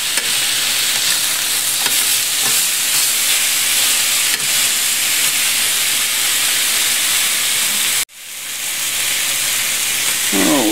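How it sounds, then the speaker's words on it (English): Pork ribs browning in a pressure cooker give off a loud, steady sizzle and hiss that runs without a break, cuts out sharply for a moment near the end, then swells back up. "Turn these over, start the second side browning."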